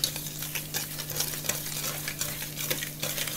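Thick oat cookie batter whisked in a bowl, a fast, rhythmic series of soft scraping and tapping strokes with a faint steady hum beneath, close and fairly quiet, no talking.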